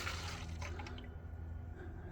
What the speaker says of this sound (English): Straight diesel goes in the cup